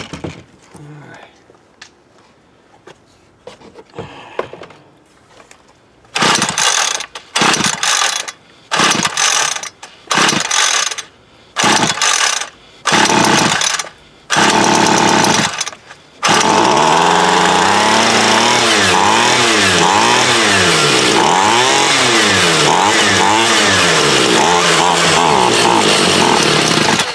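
A Homelite UT33650A 26cc string trimmer is pulled over and over in short bursts, then catches and runs with its throttle held wide open, roaring loudly and steadily close by.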